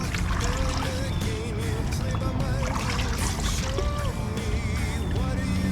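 Water splashes and sloshes steadily as a Yamaha YFZ450R air filter gets rinsed, a continuous close wash of running water with faint tonal squeaks on top and no clear talking.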